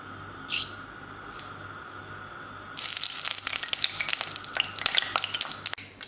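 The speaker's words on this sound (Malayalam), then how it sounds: "എണ്ണ നന്നായിട്ട് ചൂടായതിന് ശേഷം 1 ടീസ്പൂൺ കടുക് ഇട്ട് കൊടുക്കുക." Mustard seeds spluttering in hot sesame oil for Kerala beef pickle: a quiet sizzle, then a sudden burst of sharp crackling pops that keeps going, irregular and close.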